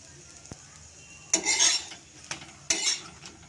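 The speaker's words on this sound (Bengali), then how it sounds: "এই দেখো গোলা রুটি ভাজছি" Gola roti frying in a pan, with a soft background sizzle broken by a few distinct scraping strokes of a spatula stirring against the metal, close and fairly loud during each stir.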